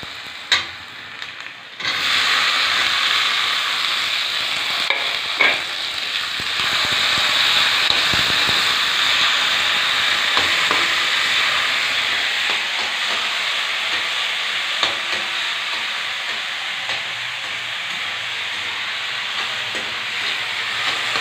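Tomato dropped into a pan of browned onions for a drumstick, potato, badi and eggplant masala curry, setting off a loud, steady hiss of sizzling that runs continuously after a brief quiet start, with faint stirring clicks throughout.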